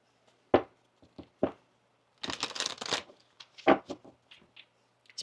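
A deck of tarot cards is shuffled by hand: sharp riffles and taps come in a few separate bursts, one longer flurry in the middle, all close and without talk.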